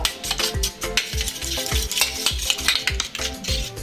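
An egg with salt beaten briskly in a bowl for fish cutlets, a fast, regular run of sharp taps and clinks from the utensil against the bowl, close and lively with no speech.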